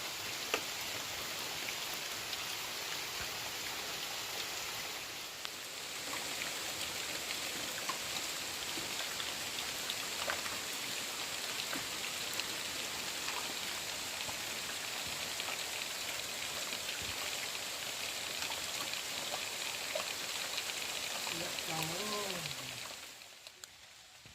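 Steady, dense rain pours onto the forest, a constant hiss filling the clip with scattered drip patter, ending briefly near the close as a faint voice rises.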